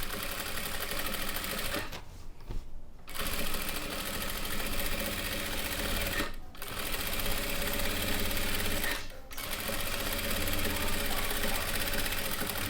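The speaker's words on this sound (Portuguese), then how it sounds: "eu venho aqui com meio pezinho de máquina, bem na base da rendinha, e faço uma costura" A sewing machine stitches lace onto a hooded towel, running in a fast steady mechanical chatter that stops briefly three times before resuming, close and alone without talk.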